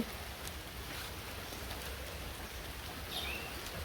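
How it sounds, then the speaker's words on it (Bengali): Rain falls steadily in a village setting, making a soft, even hiss of drops with no breaks, faint and continuous, with a brief bird call near the end. "কেমন বৃষ্টি নামছে"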